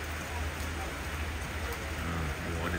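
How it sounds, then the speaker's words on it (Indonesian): Rain falling steadily at an outdoor fishing pond during a grand opening event, a continuous broadband patter that stays even and close throughout. "Hujan, guys."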